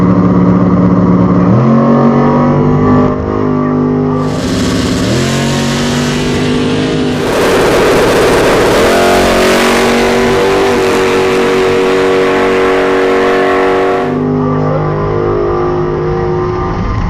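Nitrous drag race cars, including a big-tire Nova, two Foxbodies and a 1000+ hp Lexus SC300, roar off the line at launch and accelerate hard, loud, close engines rising in pitch and swelling to a sustained full-throttle howl.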